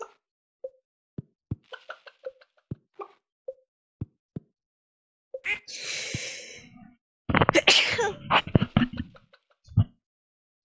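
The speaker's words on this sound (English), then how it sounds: "Sorry about that, guys, if I sneezed in anybody's ear." A person sneezes close to the microphone during Stardew Valley farm gameplay: a sharp, noisy burst followed by a louder, longer second burst, set among soft, evenly spaced game plops.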